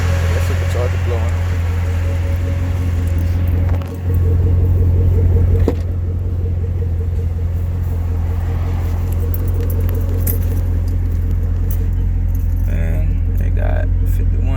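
A supercharged 2014 Chevrolet Camaro ZL1 with about 51,000 miles idles after a cold start, giving a loud, steady low drone close by, with a brief dip near the four-second mark and light metallic jangling over it.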